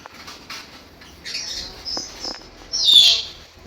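Lutino cockatiels chirp in a few short, scattered calls, ending in one louder squawk-like call, against an otherwise quiet background.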